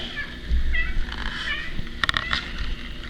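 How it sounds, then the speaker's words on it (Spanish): A small cat meows a few times, with rising and falling cries set against a noisy room where the power has just gone out. "Pasó un pequeño gato"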